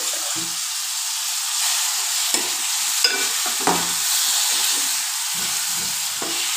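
Whole brinjals stirred in a pan for a stuffed eggplant curry, a steady low sizzle with a few clinks and scrapes of the spoon scattered through, close and fairly quiet, with no talking.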